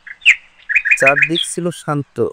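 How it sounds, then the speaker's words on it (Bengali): Cartoon birds chirping in a calm countryside scene, bright tweets in a quick series at the start, then continuing lightly beneath a narrator's voice. "হালকা বাতাস আর পাখির ডাক"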